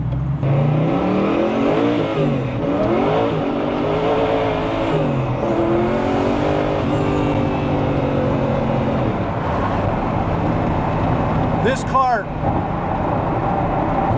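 A light Mosler with a twin-turbo LS7 engine accelerates hard, its engine note droning loud and steady from inside the car and climbing through repeated rising sweeps as gears change, while someone talks over it.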